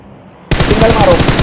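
After a half-second of near silence, loud rapid automatic gunfire erupts in a shooting video game, a close, steady burst of evenly spaced shots continuing to the end.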